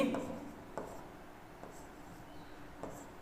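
A pen writing on paper during a math lesson, with faint scratchy strokes and light taps spread across a few seconds in a quiet room, and a short burst of voice at the very start.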